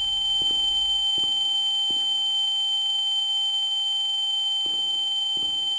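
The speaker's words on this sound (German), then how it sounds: "kann dieser Piepton bitte aufhören?" A steady, piercing high-pitched electronic beep drones on without a break in the video game The Town of Light, loud and close, with faint low thumps beneath it.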